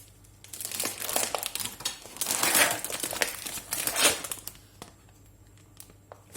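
Crinkling plastic wrapper of a packet of organic crêpes being pulled open up close, several bursts of rustling and crackling that fade to a few soft handling sounds.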